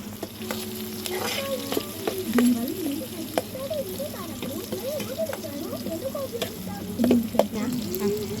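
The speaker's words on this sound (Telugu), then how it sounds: "టమాటా వేసుకోవాలి టమాటా కూడా మంచి ఉడికించుకోవాలి" Tomatoes frying and being stirred in a pan for a country-style chicken curry, a continuous close sizzle with spoon scrapes, while someone talks over it.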